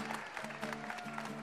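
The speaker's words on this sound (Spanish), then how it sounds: "Señores, sí, pueden aplaudir." An audience applauds at a Christmas celebration held by a foundation, a steady wash of clapping over sustained musical tones.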